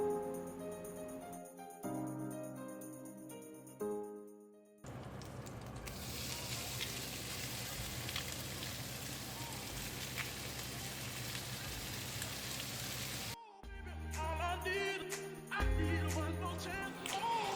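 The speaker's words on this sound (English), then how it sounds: "then we're going to start frying our bacon bits" Bacon bits sizzle and crackle steadily in a hot cast iron pan, a dense frying hiss that fills the middle stretch, with quieter clinks and kitchen sounds around it.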